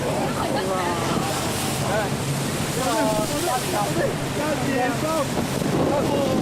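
Strong wind roars and buffets the microphone continuously on a cold boat tour underway in China, with water sloshing below and people talking faintly through the gusts.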